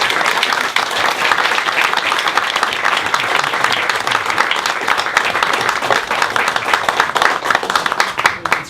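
An audience at a talk in Rye breaks into loud, sustained applause welcoming James O'Keefe, a steady wash of clapping that holds evenly throughout.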